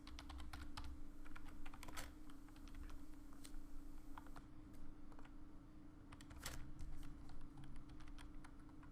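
Steady, rapid keystrokes on a computer keyboard while HTML code is typed, close and fairly quiet, an irregular clicking rhythm over a constant low hum, with no talk.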